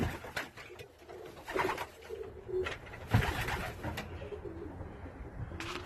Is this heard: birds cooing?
yes